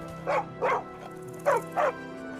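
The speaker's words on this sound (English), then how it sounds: "It's a stray dog." Stray dog in a video game barking four times in two pairs, each short bark mid-pitched and fairly close, over a faint, steady background hum.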